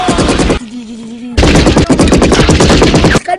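Sustained machine gun fire from an action scene in the movie Commando, loud and continuous in rapid bursts, with a short quieter break near the start before the firing resumes at full intensity.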